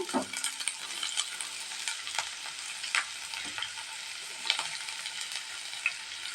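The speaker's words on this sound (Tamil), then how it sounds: "இருக்கிற ரெண்டு பெரிய வெங்காயத்தை அதில் போட்டுக்கலாங்க" Two large chopped onions fry in a pan, a soft, continuous sizzle with occasional scrapes and light clinks of a stirring spoon, close by and fairly quiet, with no voices.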